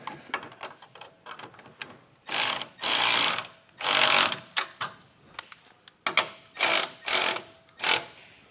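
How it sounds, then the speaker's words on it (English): A hand ratchet with a 14mm socket tightens nylon lock nuts on an Air Lift air helper spring setup, giving bursts of rapid close clicking in repeated strokes with short pauses between. "Now we're going to take a 14mm socket and tighten down each of these nuts evenly."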